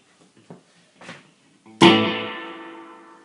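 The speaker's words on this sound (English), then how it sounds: "Slap echo on with a reverb, and now we're getting to drip." A few soft plucked surf guitar notes, then one loud twangy note that splashes into a wet, dripping reverb with slap echo and rings out slowly.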